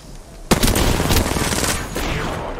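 Rapid automatic gunfire in the online shooter Apex Legends bursts in loud and close after a short lull, a sustained clattering volley that continues at slightly lower intensity to the end.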